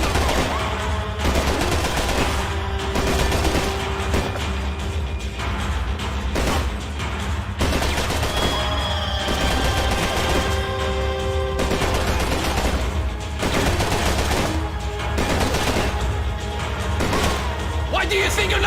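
Dense, sustained gunfire from the video game Max Payne 3, rapid bursts and crashing impacts packed together with brief pauses, loud and close throughout.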